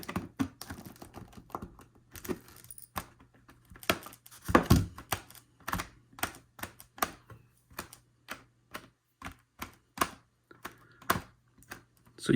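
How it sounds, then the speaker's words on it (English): Homemade wire turnout spring on model railroad track, heard as a run of sharp, close, irregular clicks and taps with short gaps between them, and no talking. "So you can hear it clicking in."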